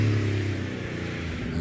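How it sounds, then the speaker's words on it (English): A Porsche 911 Carrera accelerates up a hillclimb course, its engine note a steady, moderately distant roar that holds through the short moment. "That sounds glorious as it charges up towards Quarry."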